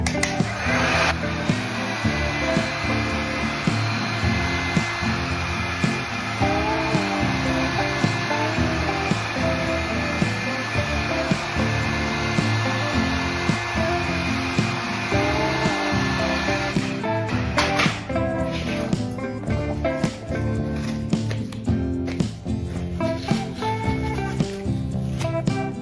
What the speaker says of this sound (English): Just heat this up. Get your heat gun.